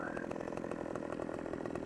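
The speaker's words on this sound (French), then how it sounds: "Il va falloir que je réaiguise la chaîne de ma tronçonneuse." A chainsaw cutting trees in Farming Simulator 15, a steady, close, buzzing whine with rapid rhythmic pulses running throughout.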